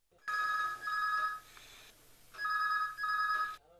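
A telephone rings in two long electronic bursts, each a pair of warbling tones, loud and close, with a short pause between, on a radio phone-in programme at All India Radio Akola.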